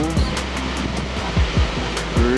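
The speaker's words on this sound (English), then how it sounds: "Pretty heckin' big waterfall." Spahats Falls, a big canyon waterfall in Wells Gray Park, gives a steady broadband roar from the viewpoint, with a few low gusty bumps passing through it.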